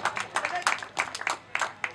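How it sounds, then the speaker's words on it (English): Applause from an audience at an outdoor political campaign event, with irregular bursts of clapping rising and fading, and voices carrying over it. "Let's clap."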